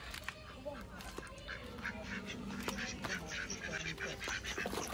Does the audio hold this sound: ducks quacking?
yes